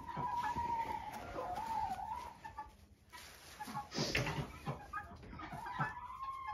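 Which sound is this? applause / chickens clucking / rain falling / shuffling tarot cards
chickens clucking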